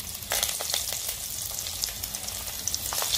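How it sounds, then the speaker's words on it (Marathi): Paneer rolls deep-fry in hot oil with a steady, bubbly crackling hiss and small popping spurts, close by and with nobody talking. "आता हे रोल आपण ह्यात तळून घेऊया"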